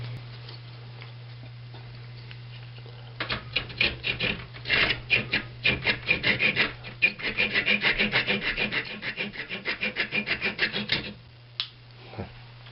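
A small wooden plug for a gouged fingerboard repair on a Warwick Thumb bass is shaped by hand, with a quick series of close, crisp rasping strokes in a steady back-and-forth rhythm, stopping and then giving a couple of final scrapes.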